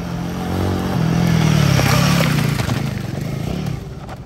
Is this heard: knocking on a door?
no